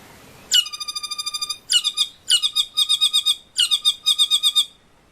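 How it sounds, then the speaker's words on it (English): A saddleback bird sings a loud, clear call: a run of rapid, evenly spaced whistled notes, then four more bursts of pulsed, rich harmonic notes with short gaps between them, close and without background noise. "we can watch a clip of the saddleback doing its call."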